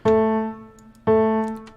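Funky melodic fill: two bright, sustained harmonic synth notes, each struck sharply and decaying slowly, the second following about a second after the first, played alone with no talking.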